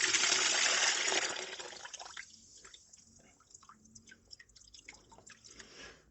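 Coolant from a LADA 2107 radiator pours into a bucket, a rushing splash at first that thins into irregular drips and trickles, close by with no talking.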